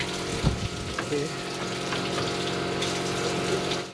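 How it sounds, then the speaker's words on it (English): Water being forced through the upper radiator hose of a 2001 Toyota Tacoma's cooling system as it is flushed, a steady gushing, pumping rush that holds at even loudness throughout, close by and with no one talking. "So just pump some water in here and then pull the trigger."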